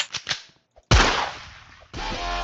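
Gunfire from a murderer-versus-sheriff video game: a quick cluster of sharp shots, then two loud sustained bursts with a short gap between them, close and dominant with no talk over them.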